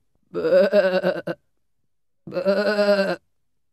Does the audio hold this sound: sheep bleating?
yes